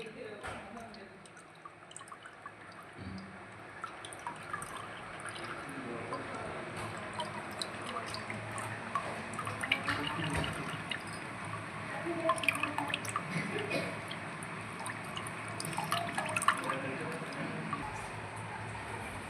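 Water drips and trickles steadily from soaked tamarind being drained, with small splashes and clinks throughout, fairly close and moderately quiet.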